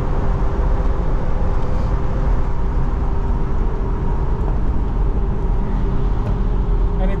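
Nissan Terrano V6 driving on the Nürburgring, a loud, continuous engine drone with road and wind roar, recorded from inside the cabin, with no clear distinct downshift.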